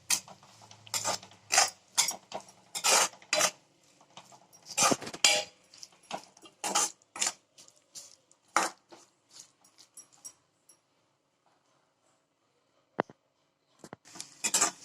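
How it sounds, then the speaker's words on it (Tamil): A spoon scrapes and clatters against a pan while garlic pickle made with fenugreek powder and salt is stirred, the clicks coming in quick irregular bursts, then a quiet gap and a few more sharp taps. "இது எல்லாத்தையும் நல்லா கிளறி விட்டுக்கோங்க."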